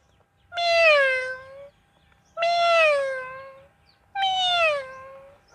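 A boy mimics a cat with three long, drawn-out meows separated by short pauses, clear and close over faint background noise.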